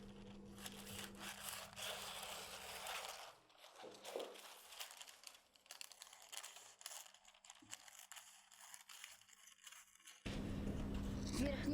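Scissors cut a fabric skirt piece for a flounce skirt, giving a run of close, dry snipping and rubbing strokes with brief pauses, ending in a louder steady stretch of shuffling.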